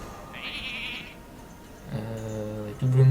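Sheep in a video game give a high, thin bleat, then two louder, lower bleats close together near the end.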